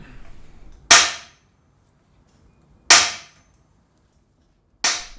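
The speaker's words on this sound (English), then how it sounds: "You're going to hear 2 cracks, the first one being the clamp again, and then with the second you can actually see the post starts moving slightly." Three sharp, loud cracks spaced about two seconds apart as a hydraulic press forces a stuck bicycle seatpost and its clamp, each a sudden snap that rings off briefly into near silence, with a low murmur before the first.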